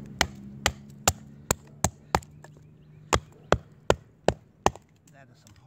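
An axe chops into a fatwood stump with a dozen sharp, close woody strikes at an uneven rhythm, a low hum underneath.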